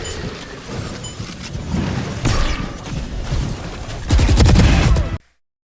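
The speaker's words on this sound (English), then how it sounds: "Swarm grenade out." A swarm grenade goes off in a video game as a series of loud rumbling blasts, building to a heavy crackling burst near the end before cutting to silence.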